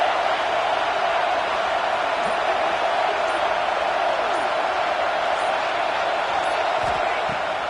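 A packed football stadium crowd at a Texas A&M versus Penn State game roars on a fourth down, a dense, constant wall of noise holding loud and unbroken throughout.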